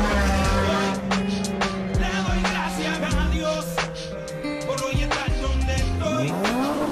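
A Porsche accelerates hard in a drag race, its engine roaring loudly through rising revs and gear changes amid sharp tire noise, close and continuous, with faint voices underneath.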